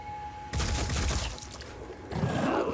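Gunfire bursts out in a Phoenix Point battle, a sudden crackling volley that rattles for over a second, then a second heavy blast with a booming tail, loud and close.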